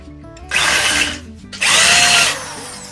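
A power drill drives screws into the support posts of a step railing in two loud, close bursts of whirring, about half a second and then nearly a second long, separated by a short quieter pause.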